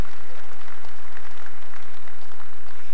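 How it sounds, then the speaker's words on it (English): Audience applause at a Brown Swiss cattle show, a dense, steady wash of many hands clapping for the whole stretch with no talk over it. "let's give them a big round of applause"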